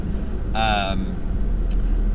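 A low, steady road rumble fills the inside of a moving car while people talk over it throughout.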